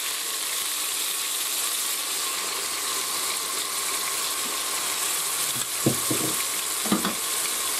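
Onion and garlic frying in a pan, a steady hiss of sizzling oil with a couple of quick scraping or clicking stirs near the end.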